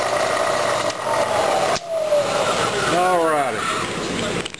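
A boring machine cuts a Yamaha 100 two-stroke motorcycle cylinder with a steady, close mechanical hum and whir, a brief break near the middle, then rising and falling tones as a voice speaks over it.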